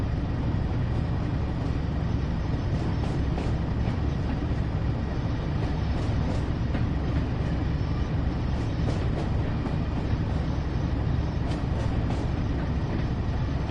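A train running in the Train Sim World 2 game along a West Cornwall line toward Penzance, producing a continuous loud rumble with faint rhythmic clatter throughout and no talking.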